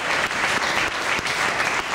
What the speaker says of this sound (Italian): Quindi un applauso che va a loro